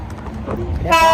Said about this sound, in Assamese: ফাইনেলি ট্ৰেইন আহি গ'ল